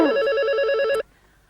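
A telephone bell rings loudly and steadily in a French-speaking home for about a second with a trilling pulse, then stops abruptly, leaving near silence.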